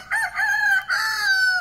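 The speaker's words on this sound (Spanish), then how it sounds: "el gallo que nos está despertando" A rooster crows at daybreak at a roadside stop in Côte d'Ivoire, one long, loud cock-a-doodle-doo in two rising and falling phrases, close by and clear with no talk.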